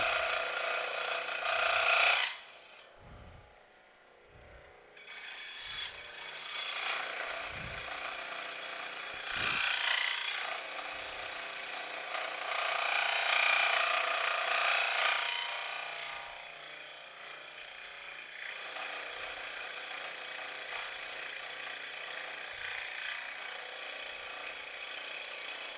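A power saw cuts through a wood workpiece, a steady broadband whine that rises and swells in several passes over about 25 seconds, with low knocks and thumps beneath, and no talking.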